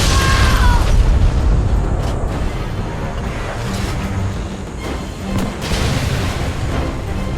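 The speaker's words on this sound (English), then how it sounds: "Svalbard then used another nuke." A nuclear blast in modded Minecraft's battlefield erupts with a huge, loud boom and a long, deep rumbling roar that rolls on for several seconds, swelling again late, with no voices.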